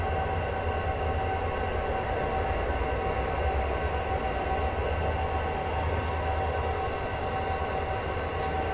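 A passing train in Train Simulator 2016 on the Soldier Summit route from Provo to Helper: a steady, loud rumble of rolling wheels and cars with faint squeals and rhythmic clicks, continuous throughout, with no speech.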